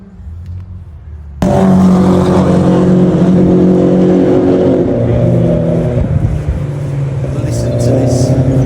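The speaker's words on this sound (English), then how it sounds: "Listen to this V12." An Aston Martin Vantage V12 race car bursts in suddenly and roars past close by, loud and sustained, its engine note shifting as it goes. Spectators talk nearby over the noise.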